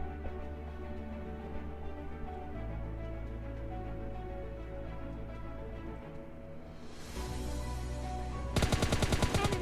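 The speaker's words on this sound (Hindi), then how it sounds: "शॉट्स वगैरह आ रहे होते हैं" Rapid gunfire from the mobile shooter PUBG Mobile Lite rattles out in a quick burst near the end, over a steady bed of layered game music and ambience.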